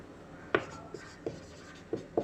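Writing strokes on a board or paper during a Hindi-language class 10 maths lesson on pairs of linear equations, with five short, separate scratchy marks spaced irregularly, close and moderately loud, with no talk.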